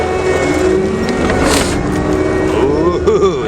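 Tractor with an Eagle Talon quick-attach grapple running below full RPM, its engine holding a steady close drone with a tonal whine that wavers near the end.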